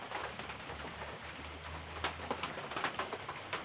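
Soft, low cooing from pigeons repeats over steady rain patter, fairly faint and close by, at night in a cemetery.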